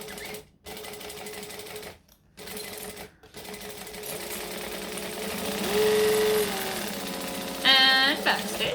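A sewing machine chain-sews fabric pieces one after another, its motor buzzing in runs broken by short silent gaps, with a rising whine near the end and a brief high rattling burst as stitching stops.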